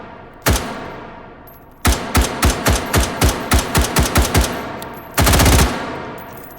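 Gunfire from a gun at an indoor range in the VR game H3VR: a single loud shot, a pause, then a steady string of about ten evenly spaced shots, and finally a short rapid automatic burst, with no talk.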